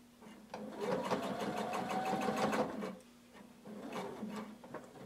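A sewing machine back stitches at the corner of a hooded tunic in two bursts of rapid rhythmic clatter, the first longer, separated by a short pause, fairly close and clear.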